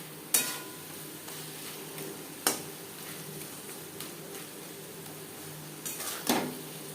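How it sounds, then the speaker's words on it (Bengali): Katla fish oil fries with onion and tomato in a pan over low to medium flame, with a soft sizzle under several distinct spatula scrapes and clinks against the pan; no one speaks. "পেঁয়াজ টমেটোর সাথে মাছের তেল বেশ ভালো করে মিক্সড করে দেব লো টু মিডিয়াম ফ্লেমে আরও চার পাঁচ মিনিট রান্না করব"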